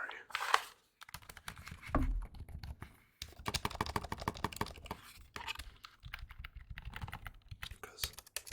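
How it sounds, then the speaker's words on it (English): Computer keyboard typing in close ASMR style, bursts of quick key clicks and clacks with brief pauses between runs. "Let me grab the keyboard real quick."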